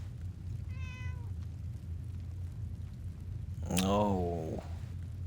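A cat in the video game Fallout 4 gives a short high meow, then a louder, longer meow a few seconds later over a low background hum.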